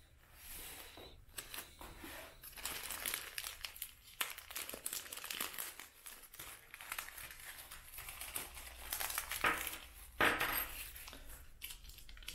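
Crinkling of a small plastic bag of kit parts being handled up close, with irregular rustles and light clicks of the small pieces shifting inside, with no talk.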